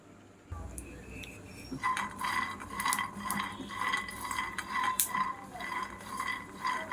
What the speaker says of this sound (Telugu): పల్లీలను కూడా లో ఫ్లేమ్లో వేపుదాం. పల్లీలు చిట్లే వరకు వేపుకోవాలండి.